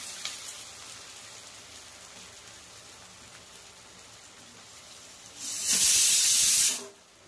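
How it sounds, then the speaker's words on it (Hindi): Quiet hiss at first, then a loud rushing burst of steam from a pressure cooker whistle lasts about a second before cutting off. "हो गला प्रेशर कुकर सीटी मार"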